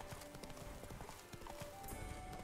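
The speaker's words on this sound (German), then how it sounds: "jetzt reiten wir trotzdem mal ein bisschen querfeldein durch die Weinreben hier" Horse hooves clip-clopping in The Witcher 3 while riding cross-country through vineyards; a rapid, regular gallop with occasional sharp game clicks and tones over it.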